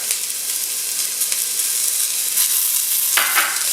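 Garlic and green pepper sizzle in a hot pan, a close, steady frying hiss with light crackles and a couple of louder bursts as the pan is stirred, no one speaking.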